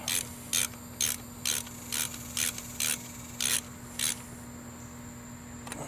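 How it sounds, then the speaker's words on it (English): A ratchet on an extension snugs the brake caliper bolts on a 2011-2019 Ford Explorer, giving eight or nine short, crisp clicking bursts at a steady rhythm over a faint constant hum, with no talk. "It does help to have a little bit of an extension on your ratchet."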